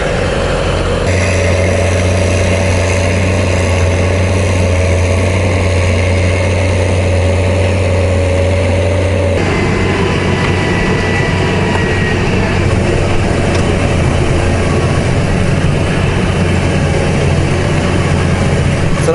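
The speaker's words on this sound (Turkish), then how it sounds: "ekim ve dikim yapan traktörler yavaş yavaş çalışmalarına başlayacak" A tractor engine runs steadily during potato planting in a field, a loud continuous diesel drone with a shift in tone partway through, close by and with no talk over it.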